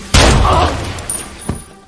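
A gunshot from an action film shootout, a loud sharp blast at the start that decays into a reverberant tail, followed by a second fainter crack about a second later.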